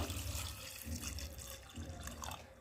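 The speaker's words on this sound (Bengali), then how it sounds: "আর আমি এখন পরিমাণ মতো জল দিয়ে দেব।" Water is poured into a pressure cooker holding chickpeas in a home kitchen, a soft, continuous splashing and trickling that stays faint and steady throughout.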